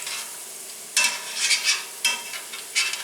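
Rosemary sprigs fry in a pan for pasta with chickpeas. A soft sizzle is broken by several sharp bursts of crackling as they are stirred or moved. No one speaks.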